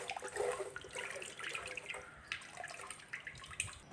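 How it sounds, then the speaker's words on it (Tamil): Water used to rinse flowers is poured out onto plants in a continuous splashing, gurgling stream with small drips, close by and fairly soft. "இப்போ இந்த தண்ணியை வந்து செடிங்களுக்கு ஊற்றிடலாம்."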